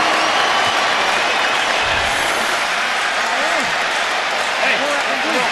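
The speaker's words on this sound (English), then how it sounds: "And the crowd stands up" Boxing arena crowd at a Pacquiao–Bradley rematch cheering and applauding in a steady, dense roar that holds loud and continuous throughout, with commentary voices running underneath.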